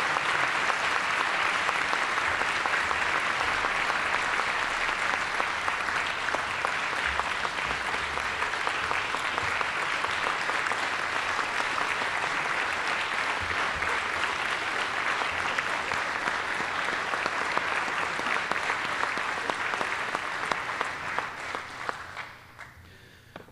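Sustained applause from an afternoon awards audience at the SAMCEDA 2013 Awards of Excellence, a dense, steady wash of many hands clapping for about twenty seconds before tapering off at the end.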